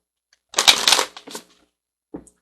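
Angel cards being shuffled by hand, a quick crisp riffle of paper lasting under a second, then a few lighter flicks and a soft tap, close and alone in a quiet room.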